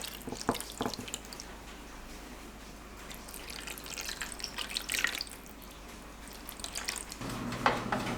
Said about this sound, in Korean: 소스를 부어요.